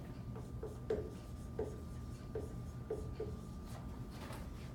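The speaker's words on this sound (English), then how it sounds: "Write that on the board." A marker or chalk writes on a classroom board, with a few short, faint squeaky strokes spaced out over a steady low room hum, no one speaking.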